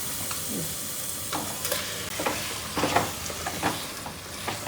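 Chicken pieces frying in a hot pan with toasted chili powder, a close, continuous sizzle broken by repeated stirring scrapes and bursts of crackle, with no talk.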